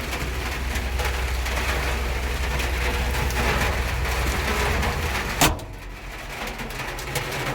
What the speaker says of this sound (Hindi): फैन लोडिंग फुल होते मंची तो फुल बारिश